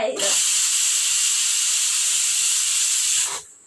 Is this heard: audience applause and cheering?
no